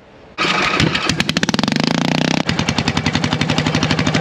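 A homemade ride-on lawn tractor with an exhaust pipe starts with a push-button, catches abruptly and settles into a loud, rapid popping idle close by.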